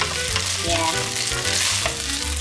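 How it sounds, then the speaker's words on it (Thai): Noodles with bacon stir-fried in a pan make a loud, constant frying sizzle with soft stirring and shuffling beneath, heard up close and without any voices. "ค่อยๆ ผัดนะเพราะเส้นดูแบบว่าพร้อมที่จะเละ"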